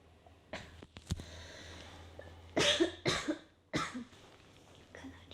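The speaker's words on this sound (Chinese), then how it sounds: "采耳的时候会咳嗽是正常的啊" A person coughs several times during an ear-cleaning session: a few sharp separate coughs, then a louder cluster, all close and quiet against a still room.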